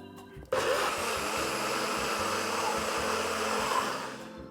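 A blender blitzes a burger sauce of chili pickle, mayonnaise and ketchup. A click and quiet clatter come first, then the motor starts abruptly and whirs loud and steady for about four seconds before it begins to wind down, with no talk.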